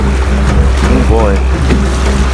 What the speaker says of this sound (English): Oh, we're driving like the wind. We got a Mustang canoe.